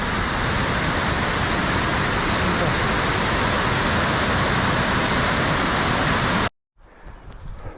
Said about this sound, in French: Belle cascade.